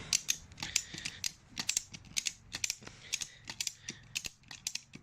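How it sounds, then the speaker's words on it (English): Ratchet strap cranked tight to compress a part on a 2012 Triumph Street Triple 675 R motorcycle, with rapid close clicking ratchet strokes in uneven bursts throughout. "I'm gonna try to compress it again using this ratchet strap"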